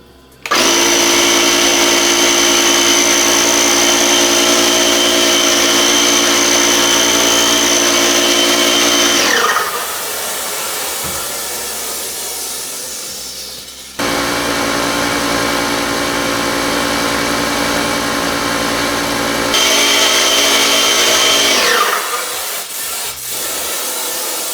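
An electric fogger spraying sanitizer around a house gives off a loud, steady motor whine with a rushing hiss. It runs in two long bursts, each cutting off sharply, with a lower hum between them.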